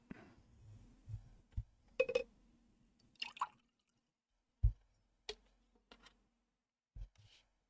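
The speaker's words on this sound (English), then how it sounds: "I'll rinse out my cup a little bit." Water splashing and dripping as a cup is rinsed out, with a few separate drips, splashes and small squishy handling sounds spread over several seconds, fairly quiet and close, with no talking.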